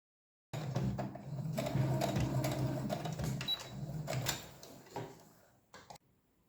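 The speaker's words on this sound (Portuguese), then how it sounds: "agora eu vou fazer uma costura de pesponto em toda a borda desse coração" Sewing machine topstitching around the edge of a small fabric heart, a steady close whirring run of stitches with brief pauses and a few clicks near the end.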